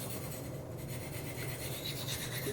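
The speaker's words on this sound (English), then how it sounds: "with these sharp maker stones, I am using a little bit of pressure" A butter knife is drawn across Sharpmaker sharpening stones under moderate pressure, giving a faint, continuous rasping scrape of steel on ceramic with no voices.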